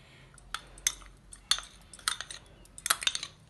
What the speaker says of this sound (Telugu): మామిడి ముక్కలు సన్నగా ఇలా తరుక్కోవాలండి